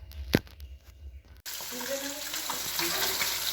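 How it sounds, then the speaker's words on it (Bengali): Fish being washed under a running water tap, a steady close rush of water splashing into a basin after a few faint knocks, with no talk. "এটা লাইলন টিকা মাছ, কলতলায় গিয়ে ধুয়ে নিয়ে আসি।"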